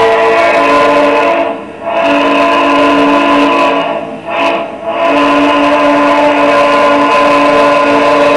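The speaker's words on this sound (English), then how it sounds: "The trains keep you up all night." A loud train rumbles steadily past in Henryville with sustained tonal whining, briefly dipping twice as cars go by, continuous and close throughout.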